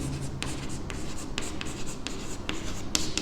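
Pen writing by hand on paper while working a mathematical logic exercise, a steady close scratching with short repeated strokes and taps, continuous and alone without speech.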